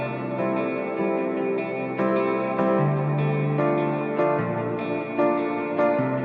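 Layered future bass verse built in Cubase, with a self-played piano part alongside guitar, steady chordal harmony shifting every bar or so, wrapped in echo, chorus and reverb effects, no voice present.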